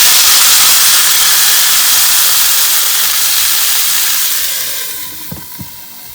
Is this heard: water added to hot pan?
yes